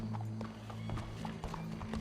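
Horse hooves clip-clop in Red Dead Redemption 2, a run of light, irregular hoof knocks at a moderate distance over a steady low hum and ambient game background, with no talk.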